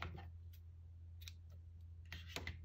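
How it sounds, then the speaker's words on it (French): Scissors snip through crochet yarn after a finished round of a crocheted square: a few faint, sharp clicks of the blades at close range over a steady low hum, with no talking. "Je coupe mon fil"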